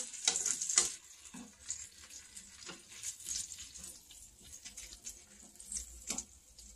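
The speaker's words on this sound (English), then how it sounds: "Sausage, I'm just going to flip them over." Sausages fry on a hot griddle with a steady, fairly close sizzle, broken by a few sharp spattering bursts and scraping clatter as they are turned.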